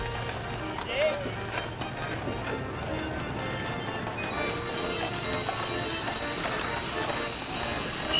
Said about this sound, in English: A team of Percheron horses, called a pull-up team, pulls the wagon to the top of the run.